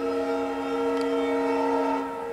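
A train horn blares steadily with a harsh, slightly off-key multi-tone chord, loud and sustained throughout with no pauses.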